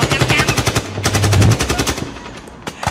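Rapid machine-gun fire plays as a sound effect in a stage comedy skit, a loud, close burst of evenly spaced shots that thins out into a few scattered reports.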